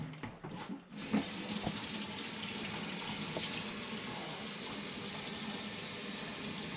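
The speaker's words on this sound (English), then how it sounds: "let me rinse my fingers a little bit" Running tap water splashes steadily over fingers being rinsed at a kitchen sink while baking holiday cookies, a continuous close wash of water from about one second onward.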